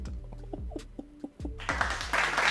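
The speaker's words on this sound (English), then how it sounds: "I gotta clap it up, bro." A few sharp hand claps burst out near the end, following a stretch of voiced talk, during a casual sports discussion.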